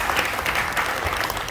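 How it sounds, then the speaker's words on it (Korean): An audience at a Buddhist university forum gives a brief burst of dense, steady clapping that fills the room evenly. "다시 한번 박수 부탁드리겠습니다."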